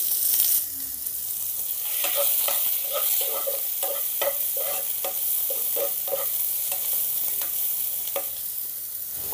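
Cumin, finely chopped onion and green chili fry in hot oil, a steady bright sizzle broken by repeated spoon scrapes against the pan for about nine seconds, close and fairly loud, with no voices.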